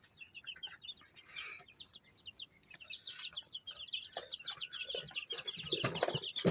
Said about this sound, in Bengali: অনেক অনেক কিউট এই মুরগির বাচ্চাগুলো।